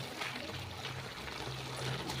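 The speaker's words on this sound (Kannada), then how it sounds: "ಈಗ ಸ್ವಲ್ಪ ನೀರು ಆ್ಯಡ್ ಮಾಡ್ಕೊತೀನಿ" Water pours into chicken masala cooking in a pan, a soft, steady liquid stream with faint low background hum and no talking.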